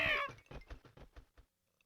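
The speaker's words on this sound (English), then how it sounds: "That's a cat." A cat meows in the Professor Layton and the Curious Village video game, with one drawn-out cry followed by a quick series of shorter, softer mews that fade out.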